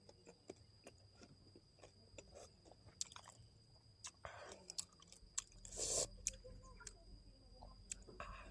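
Someone chews sour green mango close to the mic, with soft irregular crunches and bites scattered across the moment and a louder burst of chewing midway, under faint whispery mouth sounds.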